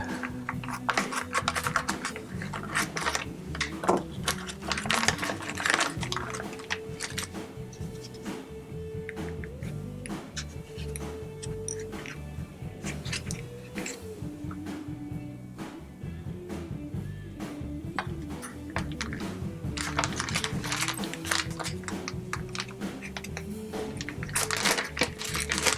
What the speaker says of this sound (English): Let's open up our mounting kit.